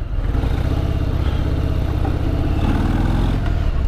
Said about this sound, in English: off for a spin on a brand new 2018 Harley Davidson Breakout